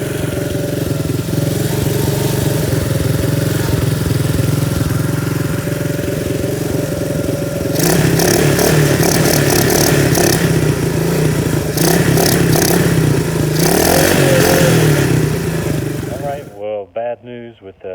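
A Predator 212 engine swapped into a Chinese ATV runs loudly and steadily close up, its rough idle picking up into clattering revs midway before cutting off near the end, with someone speaking briefly.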